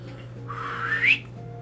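A clown blows a slide whistle in the game West of Loathing: one rising glide that climbs steadily in pitch over about a second, fairly loud over a low steady background hum.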